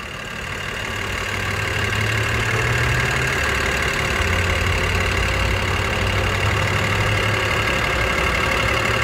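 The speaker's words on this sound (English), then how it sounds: "Can't beat a good old-fashioned BMW straight-six." A 2007 BMW 325i with a straight-six engine idles steadily nearby, a continuous smooth hum that swells slightly in the first second and then holds even and loud with no talking.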